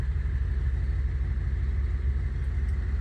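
A 1958 Edsel hardtop that had been sitting a while idles with a steady low rumble, even and close, with no voices over it.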